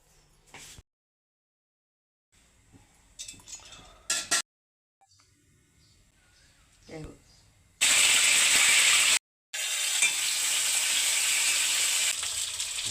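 Fish fries in a pan with a loud, dense, hissing sizzle that starts abruptly after quieter kitchen clatter and a few faint knocks, then drops out briefly and resumes strongly for several seconds.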